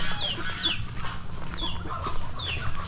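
Free-ranging chickens on a rural Philippine farm with laying nests, their clucks and short calls scattered over steady outdoor background noise, fairly close, with no talking.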